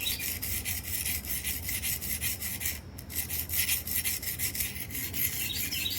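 A WE Swordfin knife is freehand sharpened on a stone, giving a steady series of close, raspy scraping strokes in an even back-and-forth rhythm, with a brief pause midway.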